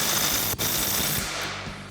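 Bolts on a Jeep Wrangler JL track bar relocation bracket are tightened with an impact-driven socket, a dense, loud, continuous mechanical rattle that briefly drops out, then carries on and tapers slightly.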